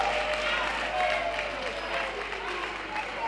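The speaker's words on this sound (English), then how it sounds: "Let's give our candidates a round of applause." An audience at a 2012 presidential debate in Tamale applauds the candidates, a sustained wash of clapping from a crowd with a voice faintly over it.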